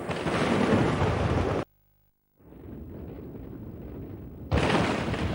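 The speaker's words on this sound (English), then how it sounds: "The familiar sound of thunder, but what we call thunder is in fact the boom of lightning." Loud bursts of noise frame a long low rumble of thunder that rolls in after a short silence and swells steadily.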